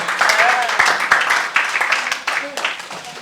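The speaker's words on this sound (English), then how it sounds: "Round of applause." A classroom audience applauds to welcome a speaker: dense, steady clapping runs throughout with a few voices and cheers mixed in.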